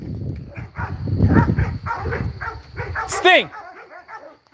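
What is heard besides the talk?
dogs barking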